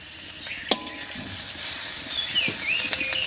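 A cooking pot lid is lifted off gourd peel frying in a pan, giving one sharp clink followed by a steady, close sizzle.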